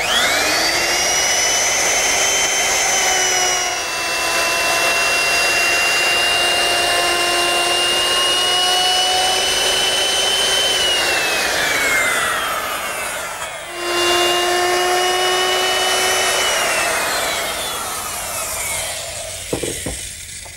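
A router bit runs along a guide fence, molding the edges of a wooden cross piece for a full-length mirror frame. It gives a loud, continuous high whine with shifting pitch as it cuts, then pauses briefly and resumes.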